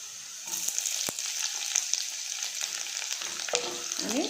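Capsicum sautéing with browned onion in a pan for pav bhaji, a steady close sizzle with a few scrapes and stirring clatters toward the end.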